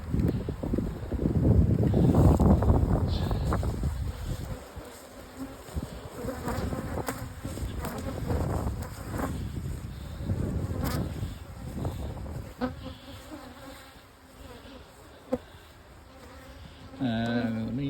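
Honey bees swarm and buzz around a nuc box outdoors, a steady layered insect drone with wind noise across the microphone and a few sharper close passes near the end.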